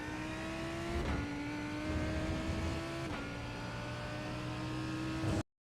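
A Lamborghini Huracan GT3 race car engine at full throttle around Misano in iRacing: a loud, sustained high-pitched roar that climbs steadily, broken by two quick upshifts, then cuts off abruptly.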